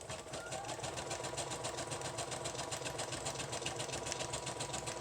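A sewing machine zigzag-stitches lace onto the edges of a fabric book page with a steady, fast, even whir, close and continuous throughout, with no talk.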